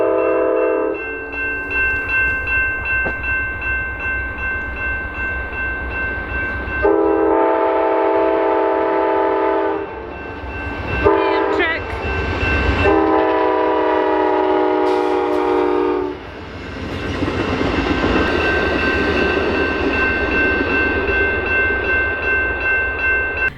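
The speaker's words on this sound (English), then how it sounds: "that literally just blew by. That was the fastest train I've ever seen" A fast train passes close by a road crossing, its horn blaring in long sustained blasts over the steady roar and rattle of rail cars, with no voices.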